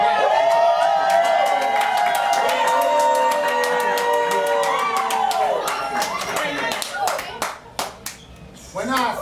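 Audience at an open mic night in a bookshop bursts into dense applause with cheers and whoops, then thins out into scattered individual claps near the end.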